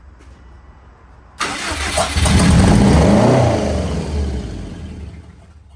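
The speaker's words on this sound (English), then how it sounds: "I want to see if this cranks over and potentially sparks and starts" A 2004 Subaru Forester XT with no coolant cranks briefly, then its engine catches and starts up, revving loudly up close before settling toward a steady idle.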